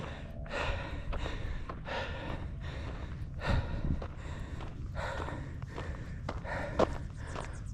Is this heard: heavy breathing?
yes